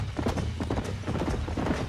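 Galloping horse hooves pound densely and continuously at close range in the Red Dead Redemption game on Xbox 360, with a possible faint whinny under the rumbling gallop.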